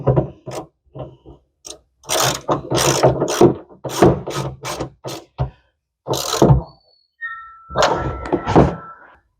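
Spanner tightening the rear bolts of a roller shutter on a 2023 Ford Ranger's tailgate, heard as close, irregular clunks and ratcheting clicks in short bursts separated by brief pauses.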